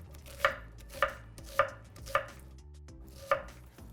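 A knife chops through an onion on a cutting board, five sharp, close thuds at a steady pace with one longer gap before the last.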